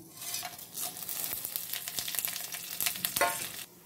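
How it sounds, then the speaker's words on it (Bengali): Dried red chillies split open, small cardamom pods, cinnamon and a few cloves sizzle in hot oil for a Bengali meat-curry tempering, a steady close crackle with light stirring throughout. "শুকনো লঙ্কা 2টো নিয়েছি, মাঝখান থেকে ফাটিয়ে নিয়েছি, আর 3টে ছোটো এলাচ, ডালচিনি আর 3-4টে লবঙ্গ দিয়ে দিয়েছি ফোড়নে"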